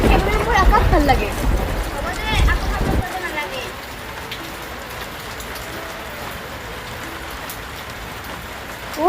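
Steady rain falling on surfaces outdoors, a dense even hiss that continues alone after loud voices and noise fade out in the first few seconds.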